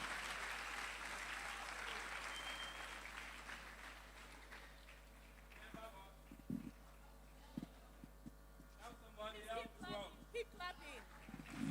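Faint, distant audience applause at the end of a health talk rolls steadily for several seconds, then fades as a speaker's voice takes over amid scattered knocks and room noise.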